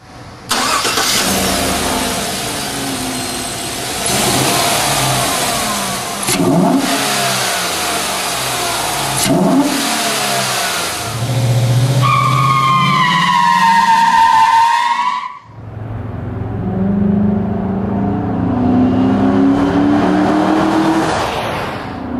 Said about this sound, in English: this thing certainly didn't need a whole lot of encouragement to roast the rear tires